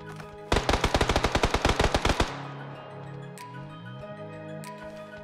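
Rapid burst of automatic gunfire in a battle royale video game, about fifteen loud evenly spaced shots, then a ringing tail with lower game ambience and scattered faint effects, no speech.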